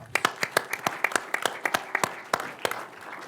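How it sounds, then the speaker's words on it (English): Applause for Niall Gibbons at a Golf Ireland media event at the PGA Show 2022, a small group clapping with sharp, separate claps that thin out over a few seconds, fairly close and with no talking. "Round of applause for Niall."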